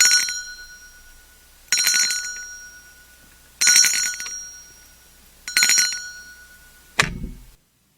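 An old-fashioned telephone bell rings four times in evenly spaced metallic bursts, each fading, then a last clipped ring is cut short, in a radio drama.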